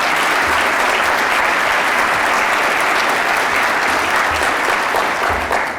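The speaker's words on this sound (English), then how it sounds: "let's give him a round of applause as well." Loud, dense applause from a large crowd at a Fulton County State of the County address, welcoming the new county manager, sustained and even from start to finish.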